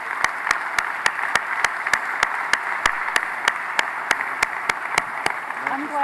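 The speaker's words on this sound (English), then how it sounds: "would everyone please stand and with me give a great hand of applause to all these government officials here on the stage" An audience at an Eastern Kentucky summit gives applause for government officials on stage, steady broad clapping under a regular clicking pulse, continuing throughout.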